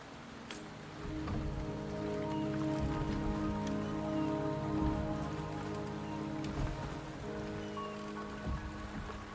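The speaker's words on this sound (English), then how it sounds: "The rain is subsiding," Steady rain falls in Wuthering Waves, an even, dense patter on surfaces that lasts throughout, with a low droning tone held underneath and a few scattered sharper drips, with no one talking.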